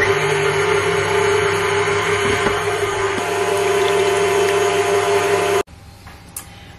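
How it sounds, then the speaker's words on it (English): An electric whisk beats two eggs in a bowl for blondies, making a loud, steady mechanical whir that runs for about five seconds and then cuts off abruptly, leaving faint room noise. "I'm just gonna put in 2 eggs and then use my whisk thing."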